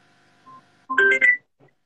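Electronic telephone signal tones: a brief soft beep, then a louder two-part burst of bright tones, with a faint blip trailing after. No one speaks.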